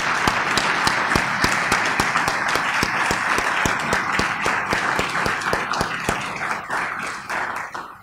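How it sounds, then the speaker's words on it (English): Sustained applause from a conference audience at an international religious freedom summit, dense clapping with sharp individual claps standing out, steady and loud for about eight seconds before thinning at the end. "let's all please give a big round of applause to Judy"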